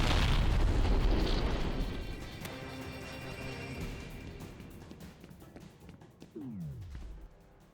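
A grenade launcher blast in F.E.A.R. Perseus Mandate, a loud rumbling explosion at the start that fades into lingering debris and ambience, followed by a later thud and descending whine.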